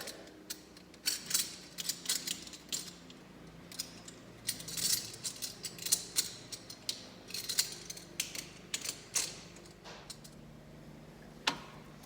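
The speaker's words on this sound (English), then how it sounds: "we are going to just slide our 2 quick couplers into there" Two hydraulic quick couplers sliding into a steel W bracket of a remote hydraulic kit for a Kubota L or MX series cab tractor, heard as a scattered series of close, sharp metallic clicks and clinks.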